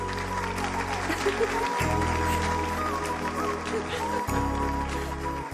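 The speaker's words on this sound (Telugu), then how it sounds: "స్టూడెంట్స్, మన జెసికా మేడం కి క్లాప్స్ కొట్టండి." A classroom of students applauds continuously in a movie scene, the steady clapping running under a sustained low music bed throughout.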